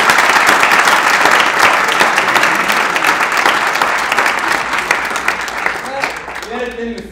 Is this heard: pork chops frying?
no